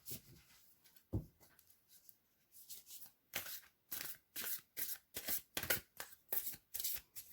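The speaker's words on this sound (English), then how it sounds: "I'm going to pull from the Moonology deck" A Moonology oracle card deck is shuffled in a quiet room, giving soft, close riffling and rustling in steady repeated bursts, with an occasional faint tap, and no voices.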